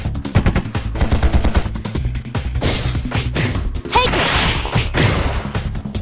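Fast machine-gun fire and bullet impacts in the mech combat game Chaos Mecha on Android, dense rattling bursts with crashes and thuds, interrupted by a brief whooshing effect, under occasional speech.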